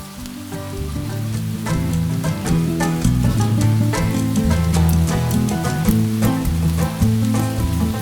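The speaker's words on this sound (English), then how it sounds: "listen to the rain" Soft, steady patter of torrential rain falling in a forest in Bavaria, constant and even, with occasional sharper drops and no voices.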